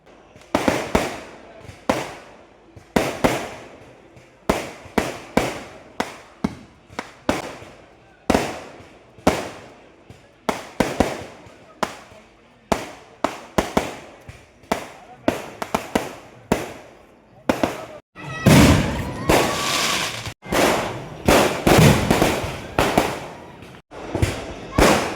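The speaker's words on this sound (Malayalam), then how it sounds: "വല്ലാത്ത ജാതി വെടിക്കെട്ട്." Fireworks at a Kerala temple festival (pooram) bursting in rapid, loud, uneven volleys, near and sharp, building to a dense continuous barrage toward the end, with faint voices in the background.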